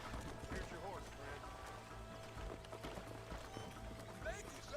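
Horse hooves clip-clop in the Red Dead video game, a steady running gait heard under a dense mix of game sound and a talking voice.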